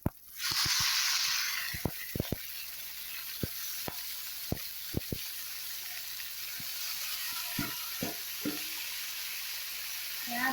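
Radish leaves dropped into hot oil for a fish curry with onion, a loud burst of sizzling that settles into a quieter steady fry, punctuated by sharp spatula taps and scrapes.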